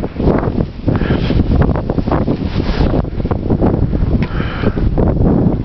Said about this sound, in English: This wind, wow, the winds are so flipping cold